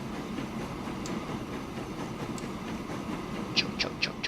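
A stone-hauling freight train in the Transport Fever simulation game rolls along with a steady rumbling drone, while a few bright clicking ticks rise over it toward the end.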